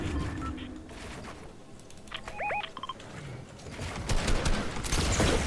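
Gunfire in Fortnite: sharp bursts of shots crackle in the later seconds over a steady game background, preceded by a few brief chiming electronic tones, with no talking.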